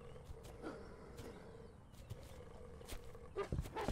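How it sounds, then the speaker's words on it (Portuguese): A low growl from a dog or wolf rumbles close by, as if from just below, in the horror survival game We Harvest Shadows, layered with game ambience and a few sharper knocks near the end. "estou a ouvir o cão ou o lobo, ou seja lá o que for, mesmo aqui por baixo de mim"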